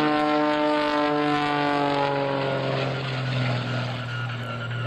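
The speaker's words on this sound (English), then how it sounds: "So much power from that 400 horsepower Lycoming engine" An aerobatic propeller plane's 400-horsepower Lycoming engine roars continuously at full power, loud and close, with a steady droning pitch that shifts slightly as it climbs, at an airshow.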